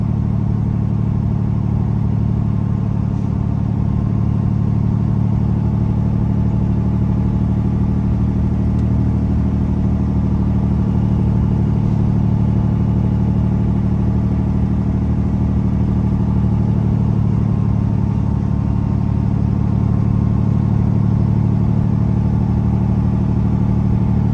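A heavy Volvo truck engine drones steadily in low gear while holding back on a long mountain descent in West Virginia, a loud, constant, deep mechanical hum with no breaks.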